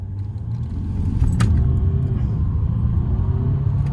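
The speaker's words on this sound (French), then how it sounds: "Vas-y, essaie de faire une petite accélération en mettant en mode sport" A Mercedes CLS 350 in sport mode pulls away from a red light. A steady, close, low engine rumble swells after about a second and holds loud and even, with no talking.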